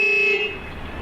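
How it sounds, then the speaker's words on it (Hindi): A car horn sounds in one steady, close, loud toot that fades away after about a third of a second, leaving quiet road ambience. "हमारे कार का हॉर्न स्नेहा पहचानती है।"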